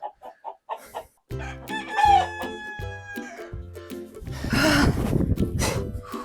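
Chickens cluck in short bursts, then a rooster crows loudly nearby, followed by more agitated clucking and flapping in a yard.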